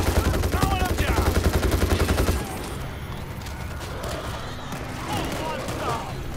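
Rapid gunfire bursts from World War Z, set in Jerusalem, rattle loudly for about two seconds and then cut off, leaving quieter game ambience while a player calls out over the action.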